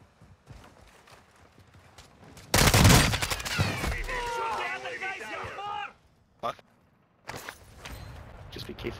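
Video game gunfire: a dense, loud burst of rapid shots crackles for about three seconds, with a radio-style voice talking over it, then a short gap before another burst of shots.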